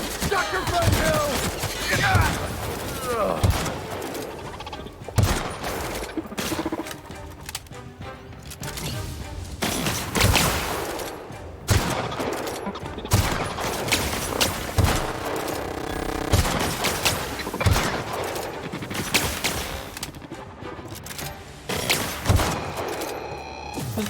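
Rifle fire in the video game The Outer Worlds, with repeated sharp shots in a steady, dense rhythm through a loud firefight, mixed with other game effects and talk.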